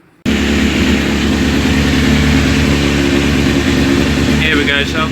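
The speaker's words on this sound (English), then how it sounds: "The bike's on, it's been on a trickle charge" A 2005 Honda CBR1000RR Fireblade motorcycle engine idles steadily and loudly from start to finish, a dense low mechanical rumble sitting close by, with a brief faint rattle near the end.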